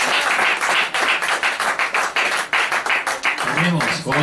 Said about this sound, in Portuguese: As palmas bem alegres para o Senhor.